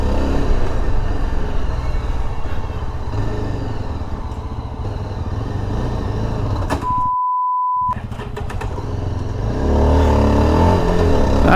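A Yezdi Adventure motorcycle on the move, its engine note droning steadily and loud throughout with a brief cut near the middle and a rise in revs toward the end, consistent with downshifting.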